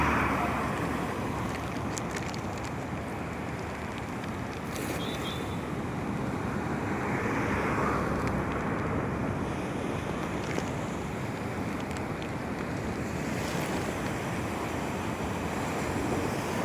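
Strong sea waves churn and surge along the shore with a continuous heavy roar and wind rumble. The sound is loud, close and unbroken, and no one speaks.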